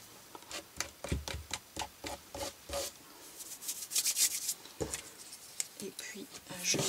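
Glue is spread over cardboard in short rubbing and scraping strokes, a quick irregular run of close, dry swipes against the card surface.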